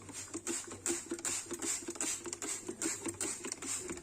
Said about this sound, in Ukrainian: зараз буду на гарячу поверхню запшикувати наш засіб від нагару